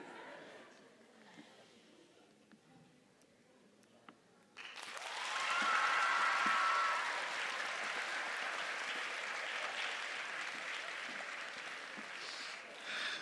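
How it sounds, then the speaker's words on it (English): An audience at an anti-bullying school event breaks into loud clapping and cheering after a quiet stretch with a few scattered claps, the sustained applause holding strong to the end. "only the nice people will clap and make some noise."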